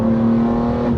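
A tuned 650 BHP BMW M2 Competition with twin turbos, its engine held at a steady loud drone under light throttle, with a sustained tonal hum and constant exhaust roar throughout.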